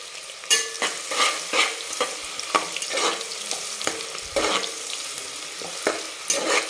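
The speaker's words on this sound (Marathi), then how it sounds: "दोन उभे चिरून कांदे टाकलेले आहेत छान एकदम गुलाबी कलरवर आपल्याला ह्याला करून घ्यायचं आहे परतून घ्यायचं" Sliced onions sauté in a pan for chicken biryani, a soft steady sizzle broken by repeated scraping stirs of a spoon, close and fairly quiet.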